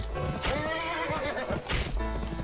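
A horse in the video game Gun whinnies loudly in two bursts, with hoof clip-clops and game sounds around it.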